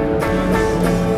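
Electric guitar played through a self-powered solid-state speaker with the pedal switched off, a sustained harmonically rich tone with a few repeated strums, moderately loud and close, with no talking.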